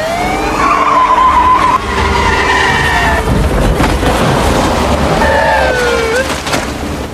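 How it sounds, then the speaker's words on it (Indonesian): Police car in a film tearing off in pursuit, tires squealing and skidding loudly over a revving engine, with screeches repeating near the start and again toward the end. "Lalu segera polisi tersebut tancap gas mengejar Angela"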